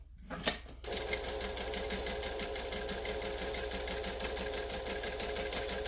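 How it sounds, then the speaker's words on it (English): A sewing machine stitches fabric slowly over pins: after a brief rustle, a steady, rapid mechanical chatter runs continuously at close range, fairly quiet but even in rhythm. "I am stitching slowly because I'm going over the pins"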